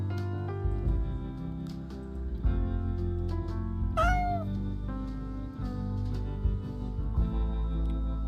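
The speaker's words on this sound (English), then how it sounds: "Oh, the cute cat." A kitten meows indoors, giving one clear rising-and-falling cry over a steady background hum, close and moderately loud.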